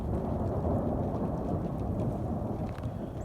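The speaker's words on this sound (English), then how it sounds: "that thunder is spooky." Deep rolling thunder from an afternoon storm rumbles continuously, mixed with the hiss of steady rain, with no voices.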